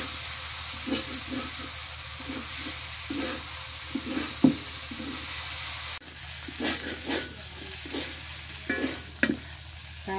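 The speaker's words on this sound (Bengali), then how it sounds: "ভালো করে নাড়া দিই।" Vegetables with coriander leaves sizzle steadily in a pan while a utensil stirs them in irregular scraping strokes, close and clear, with a few sharper knocks against the pan.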